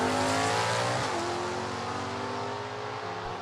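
Stick-shift drag race cars launching from the line in a final round, a loud sustained engine roar with a gear change about a second in, close and continuous, with no talking.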